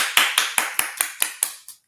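Eight sharp hand claps in a steady, slightly quickening rhythm, close and fairly loud, each one snapping off quickly into silence with no voices over them.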